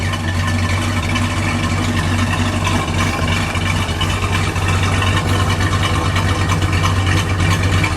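A 1969 Plymouth Sport Satellite with a 383 V8 idles steadily and loudly up close, a continuous low rumble with an even throb and no revs.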